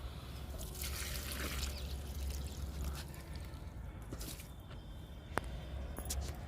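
Water trickles and splashes softly onto a potted lemon plant in a home garden, a steady low pour with a few drips and no talk.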